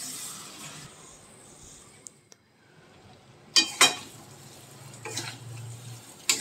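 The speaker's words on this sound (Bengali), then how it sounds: "দিয়ে আবারও ভালো করে কষিয়ে নিচ্ছি" Mutton pieces sautéed in a pan with masala and a little sugar, giving a soft steady sizzle with a few sharp scraping stirs of a spoon against the pan, close and fairly quiet with no talking.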